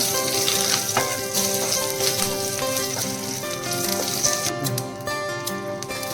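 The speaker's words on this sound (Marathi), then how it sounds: "तेल मस्तपैकी आपलं गरम झालेलं आहे तेजपत्ता" Bay leaf dropped into hot oil for a pota masala sizzles and crackles loudly and steadily, a dense frying hiss with small pops throughout.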